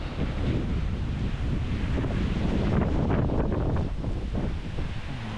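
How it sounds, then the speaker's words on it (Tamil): Strong wind roars and buffets the microphone nonstop in the Yelagiri hills, loud and gusty, with no voices heard. "பயங்கரமாக காற்றடிக்குது. எப்படி காற்றடிக்குது பாருங்கள்."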